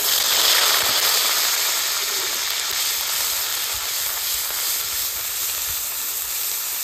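Onion, garlic and ginger paste fries in hot oil with a few whole cumin seeds, a steady loud sizzle and hiss that holds evenly throughout with no voices.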